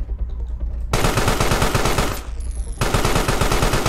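Rapid bursts of automatic gunfire from soldiers in the video game Carrion rattle out loud and close, a long burst followed by a brief pause and another sustained volley.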